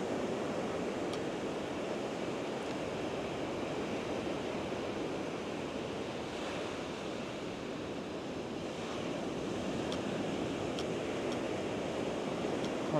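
Large ocean waves breaking on a beach, a continuous loud roar of surf with wind noise buffeting the microphone and no voices.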